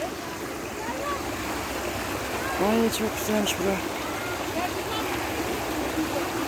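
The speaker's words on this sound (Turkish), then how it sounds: "Burada da su akıyor ne kadar güzel. Sanki köy deresi gibi." A stream flows like a village creek, giving a continuous rushing, babbling wash heard outdoors, while someone speaks briefly over it partway through.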